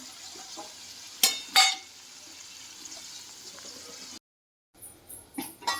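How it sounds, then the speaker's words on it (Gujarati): Tindora (ivy gourd) curry with tomato stirred and sizzling in a pan, a low steady fry with two sharp scraping bursts of the spoon, a brief drop to silence, then more clattering stirs near the end. "આપણે જોઈએ ટીંડોરાનું શાક હવે આપણે સારી રીતે બધું મિક્સ કરીને હલાવી દઈએ"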